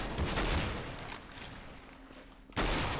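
Gunfire in the video game Counter-Strike: Global Offensive, a loud burst of shots at the start that decays, then another sharp blast near the end, with no talk.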